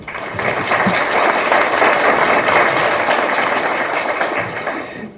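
Sustained applause from a conference audience at a keynote lecture in Mexico, a dense steady roar of many hands clapping for about five seconds with no talk over it.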